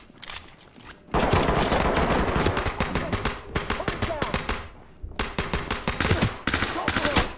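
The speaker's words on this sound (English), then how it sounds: "Quietly as Casper unloads a whole mag" Gunfire in the tactical shooter game Ready or Not as a whole magazine is emptied: long bursts of rapid rattling shots, loud and close, with a short pause in the middle before firing resumes.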